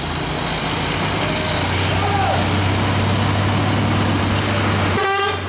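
A Pertamina tanker trailer truck drives close by with a loud, steady engine drone throughout, ending in a short burst of horn toots.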